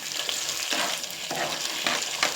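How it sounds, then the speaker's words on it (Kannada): Ginger and garlic fry in a pan with tomato, a close, continuous sizzle broken by repeated scraping stirs, with no voices heard. "ಇವಾಗ ಶುಂಠಿ ಬೆಳ್ಳುಳ್ಳಿ ಫ್ರೈ ಆಗಿದೆ."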